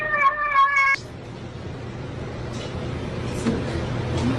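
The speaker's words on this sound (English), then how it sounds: "This is a cat." A cat gives one loud, close meow lasting about a second, followed by a quiet, noisy room.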